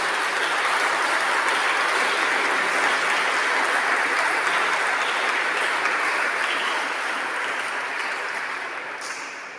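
Sustained audience applause at a choral concert of Mendelssohn's Lauda Sion fills the space as a dense, even roar of many hands, holding steady before tapering off toward the end.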